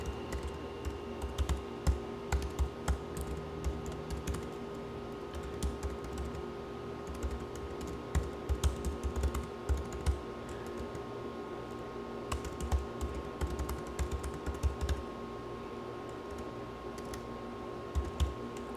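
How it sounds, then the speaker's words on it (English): Someone types on a computer keyboard nearby in quick, uneven bursts of light clicks that run steadily throughout, with no talking. "Don't know how to type."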